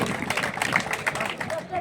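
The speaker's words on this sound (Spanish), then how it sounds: "Aí o temos, forte aplauso, Manuel Prieto." Applause rises for a race winner at a trophy ceremony during the Galician Master championship, a steady patter of many hands clapping beneath an announcer's voice talking over it.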